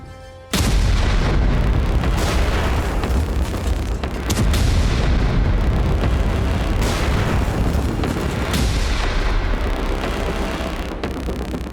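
Heavy, continuous blasts and rumbling booms from Israeli air strikes on Hezbollah sites in a war zone, loud and saturated, rolling on without pause with sharper cracks surging at intervals.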